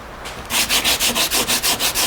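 Sandpaper is rubbed by hand along the edges of a car door trim panel in quick, even back-and-forth strokes, close and loud, about a dozen in rhythmic succession.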